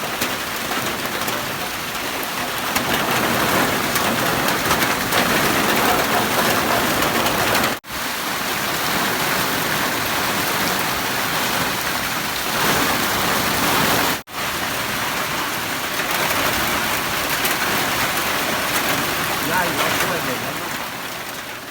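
Steady, dense rain hissing on surfaces throughout, with two brief dropouts and faint voices now and then beneath the downpour.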